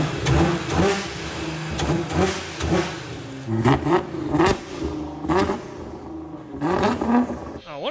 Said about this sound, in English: The belt's a little noisy.